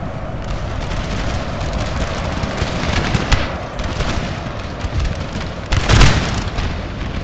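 Musket volleys from troops on a farmland battlefield in Napoleon: Total War crackle as a dense, continuous rattle of distant shots, with heavier booms near the middle and a loud blast around the end.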